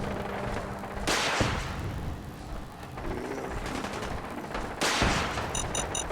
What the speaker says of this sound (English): Something's shooting at us with a bloody rocket launcher.